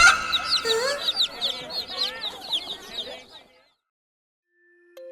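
Chicken clucking used as a sound effect in a Hindi horror story, a busy run of clucks and squawks with a chirping, cooing quality for about three seconds, then silence broken only by a faint tone near the end.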